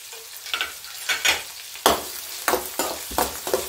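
Garlic and green chillies frying in a pan, with bursts of sizzling and spatula scrapes recurring every half second or so, close and fairly loud.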